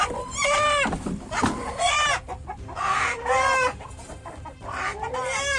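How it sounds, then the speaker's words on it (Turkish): A rooster crows loudly several times in close succession, each crow a drawn-out, wavering call, with short gaps and faint background noise between. "kesmeye niyetlendiği horoz yine anne diye bağırınca"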